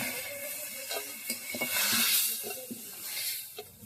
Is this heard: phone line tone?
no